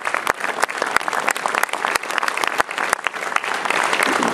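An audience applauds a symphony orchestra at a New Year's concert, with steady, dense clapping throughout and sharp individual claps standing out near the listener.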